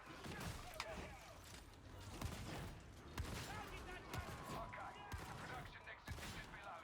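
Gunshots and clattering combat in Warhammer 40,000: Darktide, a string of sharp reports spaced every second or so over dense battle noise, with a voice talking throughout.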